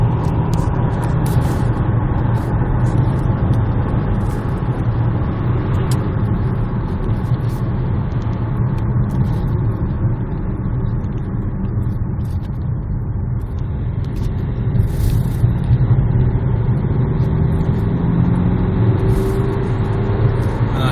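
A new Opel Mokka driving on a road test, with a steady interior rumble of engine and tyres on the road throughout and a slight swell as it picks up speed.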